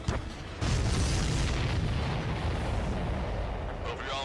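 Loud, continuous explosions rumble through an Ace Combat 7 aerial battle as a supply ship goes down, a dense booming roar sustained for several seconds after a sharp onset.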